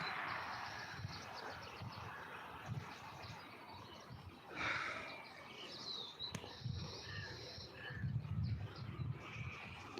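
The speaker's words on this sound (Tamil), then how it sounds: "தூக்கம்லாம் கூடு குருவி எப்படி விளாண்டுக்கிட்டு இருக்கு" Sparrows building a nest near roadside paddy fields in Tirunelveli chirp in faint, scattered bursts over low outdoor rustle and background noise.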